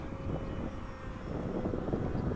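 A Hobbyking Fun-Fighter F4 Wildcat RC plane flies on a 3s battery, its small electric motor and propeller giving a steady droning buzz at moderate distance, continuous and unbroken with no talking.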